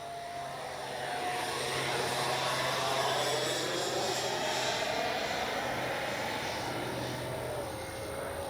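A Freewing Avanti S V2 80mm electric ducted-fan RC jet streaks past in the afternoon with a rising then fading whooshing whine, steady and loud for several seconds, no talk heard.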